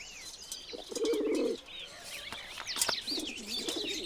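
Caged birds coo and chirp close by, with low pigeon-like cooing phrases mixed with higher twittering calls and faint wing flutters.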